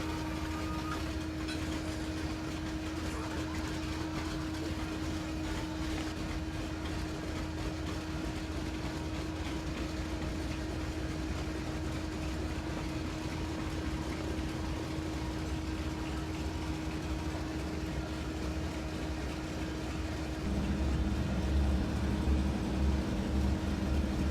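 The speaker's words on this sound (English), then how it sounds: "Engine 1 starting up." A DC-3 radial piston engine in a flight simulator turns over and starts, a low steady drone with a constant tone that swells louder near the end as the engine catches. Heard alone, without talk.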